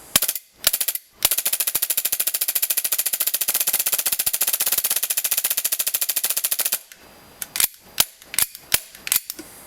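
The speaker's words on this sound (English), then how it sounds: "Here's on full auto. I'm going to do a stress test just to show you how smooth the gun is." Tokyo Marui G17 airsoft gas pistol with custom modifications firing a long, rapid full-auto burst of evenly spaced sharp cracks close up, followed by a few separate mechanical clacks and single shots.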